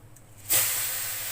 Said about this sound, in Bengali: এখন আমি এই শাকগুলা ভেজে নেব।